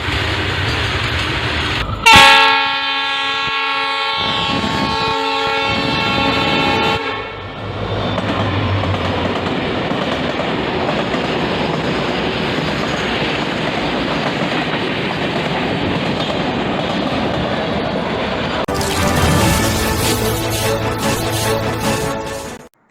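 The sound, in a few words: Oxygen Express train moving on rails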